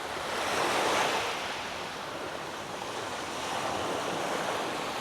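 Steady wash of sea waves rolling in below a beach resort in Mabini, Davao de Oro, a broad continuous roar that swells slightly and eases, with some wind mixed in and no voices.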